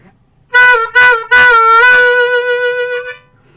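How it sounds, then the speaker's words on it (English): A blues harmonica plays three short 4-draw notes, the third bent down and slid smoothly back up to its natural pitch, bright and close with no accompaniment, as a lesson phrase. "The third 4 draw in the sequence is then bent down and brought back up to the natural note."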